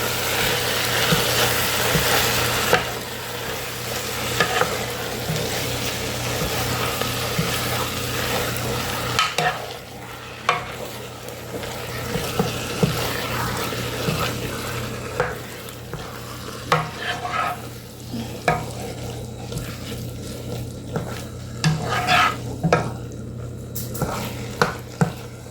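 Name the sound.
ground turkey being broken up and sautéed in a pan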